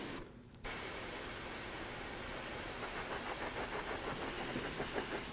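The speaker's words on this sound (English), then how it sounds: "see how you can spray the black on top of that to darken it" Black spray paint hisses steadily from a can onto a Bo-Katan helmet, a close, continuous spray after a short pause, with faint pulsing as the nozzle is worked.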